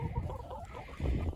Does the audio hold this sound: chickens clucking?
yes